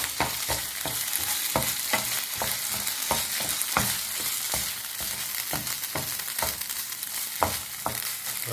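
Onions fry with tomato sauce in a pan under a steady sizzle, while a utensil scrapes and stirs in regular repeated strokes, close and continuous throughout.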